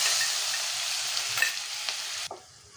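Ginger-chili paste sizzling in a pan with cumin and asafoetida, a loud close hiss that runs steadily, then cuts to a quieter crackle near the end.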